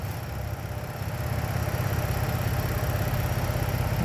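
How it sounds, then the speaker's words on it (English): A 2011 Lincoln MKX engine idles steadily with a low, even rumble and a faint ticking hum, with no voices. "Okay, with the motor running,"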